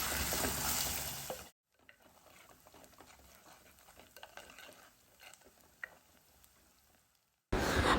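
Chopped onion, green chilli and curry leaves sautéing in a pan for a fish curry, heard as soft intermittent stirring scrapes and a low sizzle, framed by louder bursts of noise at the start and end.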